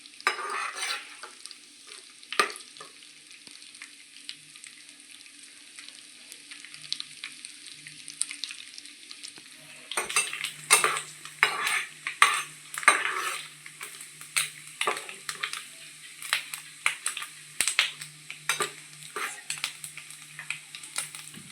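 Dry coconut fries in ghee in a pan with a soft sizzle. After a quieter stretch, busy close spoon scraping and clinking against the metal pan follow in quick repeated strokes.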